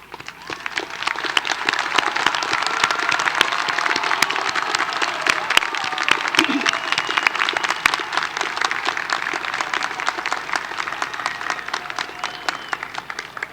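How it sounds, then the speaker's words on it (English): A large audience gives sustained, dense applause at a university commencement ceremony honoring graduates with academic honors, loud and steady throughout. "Will those students who are graduating with honors, with academic honors, please rise and receive our applause."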